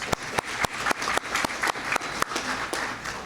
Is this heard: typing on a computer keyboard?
no